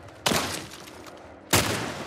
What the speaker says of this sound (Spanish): vaya disparo de mierda que acabo de hacer